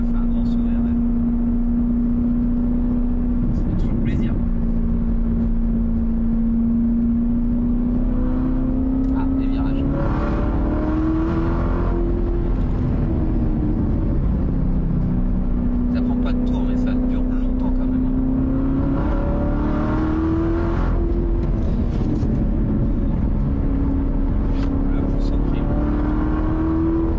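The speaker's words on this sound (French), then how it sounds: "L'inertie du compresseur à la décélération est très impressionnante." A Corvette C7 ZR1 on the road, heard from inside as a loud, steady engine drone with a supercharger whine whose pitch rises and falls repeatedly as the car speeds up and slows down.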